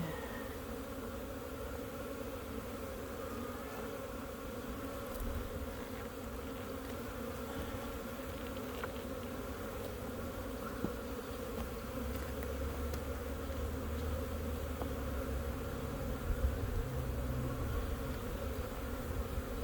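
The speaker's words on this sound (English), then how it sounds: "These busy bees, all right." Dense, steady insect drone from a crowd of honeybees at an opened hive during an April hive inspection, a continuous close buzz with layered wingbeat hum that holds level throughout, with no talk.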